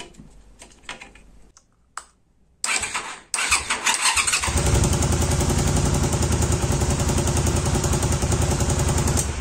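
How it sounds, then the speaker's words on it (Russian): After some clicking and a couple of cranking attempts, a Honda Magna 250 motorcycle engine fires up and settles into a loud, steady idle close by. "Немного надо будет запустить мотоцикл, чтобы помпа прогнала антифриз"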